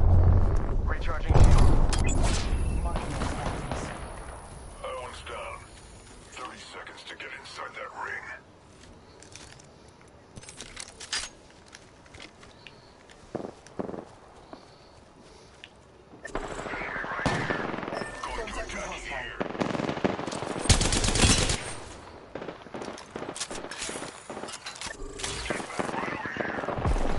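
Gunfire in the battle royale game Apex Legends, with bursts of rapid automatic shots and single loud reports early on and again near the end, broken by quieter stretches while players talk throughout.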